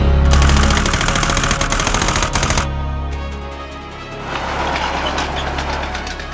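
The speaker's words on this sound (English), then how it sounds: "A column of armored personnel carriers and assorted other military vehicles pass by our offices." A column of armored personnel carriers and other military vehicles rolls past on a Moscow street in 1991, a loud, rapid clattering track rattle and engine rumble that drops and swells as vehicles pass.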